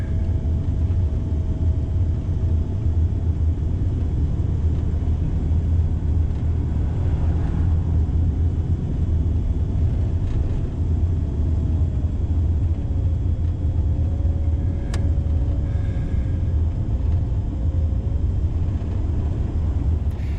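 A car driving along a desolate road past Baker City, Oregon, heard from inside as a steady, unbroken engine and road rumble with no voices.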